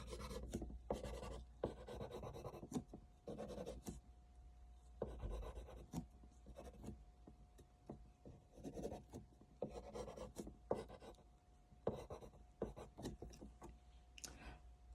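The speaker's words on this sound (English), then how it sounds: "And we can even draw the eyebrows" Pencil strokes scratch across paper as eyebrows are sketched on an eye drawing. Short, close, rhythmic scraping bursts repeat throughout, with brief pauses between strokes.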